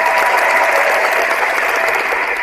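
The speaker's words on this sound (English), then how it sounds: "Can we give our callers a round of applause?" Applause for callers on a relationship talk show, a loud, steady, dense wash of clapping with no break, slightly compressed and broadcast-like.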